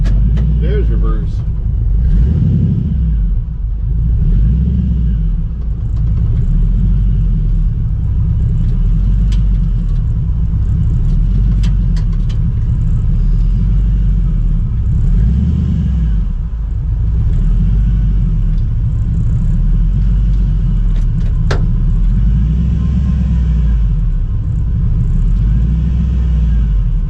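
A Chevrolet El Camino engine rumbles continuously up close while driving, with steady low droning and mild swells in revs; people talk over it.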